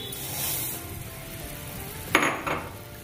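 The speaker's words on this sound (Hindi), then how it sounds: "अब मैं धीरे धीरे इसको चलाऊंगी मखाने को। दूध गर्म हो रहा है," Roasted fox nuts (makhana) are stirred into milk heating in a pot, giving a faint soft simmer with a couple of sharp spoon scrapes and clinks near the end.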